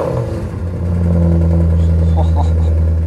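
A cheap, famous supercar, filthy from the desert and track days, fires up near a trailer. Its engine settles into a loud, throaty idle, then swells into a sustained rev.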